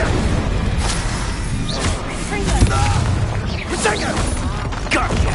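Spell-casting bursts in the Hogwarts Legacy video game, a fire spell flaring amid repeated booms and crashes of a magical duel, dense and continuous with game effects layered over one another.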